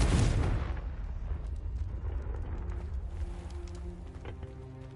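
A Confringo fire spell in Hogwarts Legacy bursts with a loud, close explosive boom, then a rumbling tail fades out over several seconds, with no voices over it.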